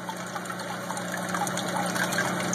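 Water drains from an aquaponics grow tank in an apartment closet grow room, a soft continuous trickle and gurgle running steadily under a faint pump-like hum, with no talking.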